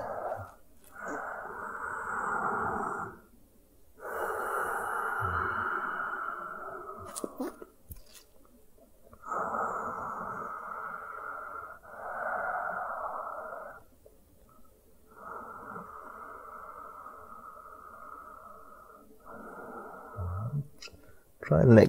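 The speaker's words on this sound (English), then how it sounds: "And we'll stay here breathing for about" Slow, deep breaths during a chest-opening hatha yoga pose lying on the floor, heard as soft airy rushes of inhaling and exhaling in a steady rhythm of long strokes with short pauses between, close and fairly quiet.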